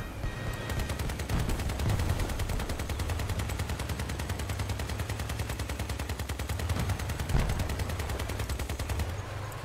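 Twin Reaper miniguns in the Crossout vehicle combat game fire without a break, a dense, rapid, loud stream of shots that holds steady for the whole stretch with no pauses.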